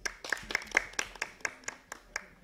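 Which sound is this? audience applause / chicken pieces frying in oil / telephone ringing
audience applause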